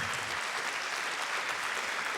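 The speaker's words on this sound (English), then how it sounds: "Can I get a round of applause from you?" An audience gives a round of applause at a talk, steady dense clapping sustained throughout with no voices over it.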